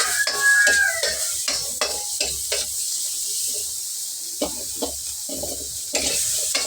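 Chopsuey being stirred in a seasoned kawali frying pan, a utensil scraping and clacking in quick repeated strokes over a soft sizzle, close and alone with no talking.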